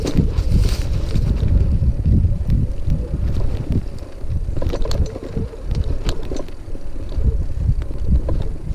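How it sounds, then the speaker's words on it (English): A budget e-bike conversion with an upgraded shock absorber rides off-road around a yard, giving continuous heavy wind buffeting over rumbling bumps and rattles, with no voices. "let me ride around my yard to test its off-road capabilities"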